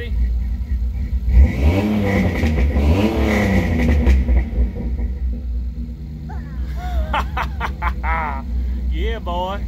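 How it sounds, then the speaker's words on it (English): A Ford Ranger pickup truck's engine revs loudly through its exhaust, rising and falling in a couple of throaty bursts, then idles while people talk nearby. "You want to hear me rev it up?"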